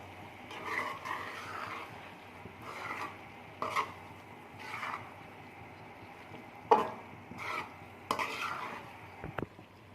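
A spoon scrapes and clatters in a pan as okra and chicken are mixed with green chillies, giving repeated short stirring strokes and a few sharper knocks against the metal, close by with faint sizzling and no speech.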